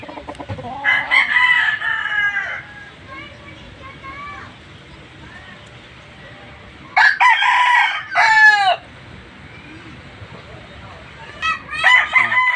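A rooster crows repeatedly in loud bursts, roughly three crows spaced apart, with quieter clucking and background chatter between them.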